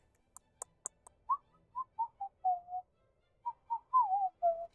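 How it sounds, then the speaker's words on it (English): A person whistles a simple tune in a series of clear, close melodic notes, with a few short gaps between phrases and some faint clicks at the start. "I like whistling that tune a little bit."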